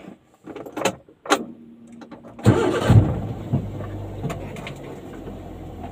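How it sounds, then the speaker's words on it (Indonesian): A small engine-driven sprayer for grass and mango trees starts up after a few short attempts, then settles into a steady motorbike-like idle close by, with clanks and handling noises at the start. "Kayak motor lah itu."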